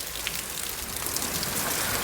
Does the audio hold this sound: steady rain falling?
yes